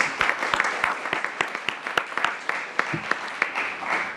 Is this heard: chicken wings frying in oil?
no